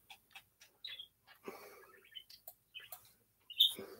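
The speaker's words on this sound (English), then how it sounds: "Birds are chirping." Faint bird chirps come in scattered short tweets and trills at a distance, with light ticking noises between them in an otherwise quiet setting.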